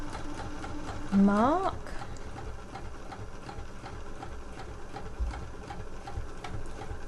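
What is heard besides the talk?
sewing machine top stitching a trouser pocket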